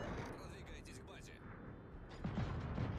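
Warship gun salvo in the World of Warships naval combat game, a heavy booming blast that swells up near the end over a steady rumbling battle background, with a voice talking throughout.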